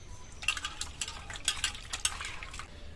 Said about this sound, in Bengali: আরো একবার ধুয়ে নেব, তাহলে উপরের এই খোসাগুলো পরিষ্কার হয়ে যাবে।